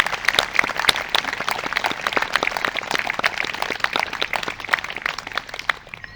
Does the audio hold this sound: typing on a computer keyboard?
no